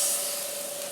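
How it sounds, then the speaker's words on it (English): Pork sizzles on the preheated griddle plate of a Ninja XL Pro Grill & Griddle, a steady bright hiss with a faint tonal whine, close and unbroken, with no talking. "now I'm just going to place the pork on top of the griddle plate"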